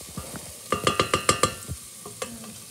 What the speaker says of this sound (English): we just give the onions and garlic a gentle stir. So these are sautéing nicely without them browning